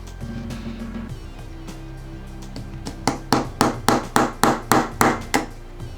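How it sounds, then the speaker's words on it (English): Someone hammers parts together while assembling a Beretta U22 Neos pistol. A few soft taps come first, then about eight sharp, evenly spaced blows ring out close by with no talking. "Before you go hammering real hard, make sure that everything is lined up."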